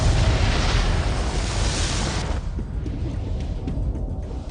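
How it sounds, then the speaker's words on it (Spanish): A dramatic explosion sound effect for a documentary about antimatter destroying the Earth: a loud, broad roaring blast at full strength for about two seconds, then a dull rumbling tail that lasts to the end. "La pura y terrible belleza de una explosión verdaderamente dramática desde dentro."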